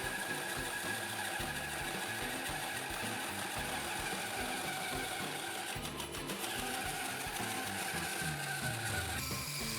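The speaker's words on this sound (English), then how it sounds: "It advances smoothly without forcing the bandsaw too much." A band saw cutting a 200 mm tall piece of birch plywood, a steady continuous whirring and rasping drone, close and even in level throughout with no pauses.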